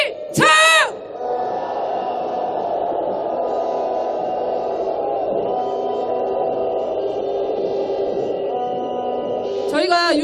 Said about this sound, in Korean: 조중동을 향한 항의 함성